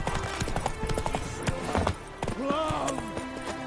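Hoofbeats of Roach, a horse galloping in The Witcher 3, thud in a quick steady rhythm, backed by game music and effects, with a brief voice near the end.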